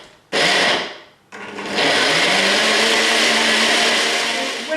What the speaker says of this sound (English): I'm going to pop the lid on, and I'm going to blend all of these ingredients together.